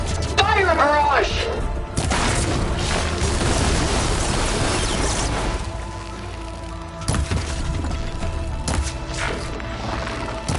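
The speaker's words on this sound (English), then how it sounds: "Fire a barrage!" An artillery barrage in a video game battle hits with heavy booms and thuds, sliding into a dense rumbling stretch of impacts and debris crashes, loud and close, with a voice calling out between the blasts.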